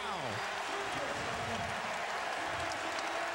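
Basketball arena crowd at an NBA playoff game between the Golden State Warriors and Dallas Mavericks, roaring and applauding loudly and continuously, with a commentator's voice briefly audible over the dense cheering.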